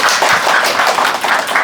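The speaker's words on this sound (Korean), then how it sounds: "우리 마드모아젤 킴 박수 한번 쳐주세요" An audience claps for a violinist and singer introduced at a Korean hanbok storytelling show with modern-era songs. The clapping is a dense, steady wash that runs the full length of the clip, close and fairly loud, with no voices over it.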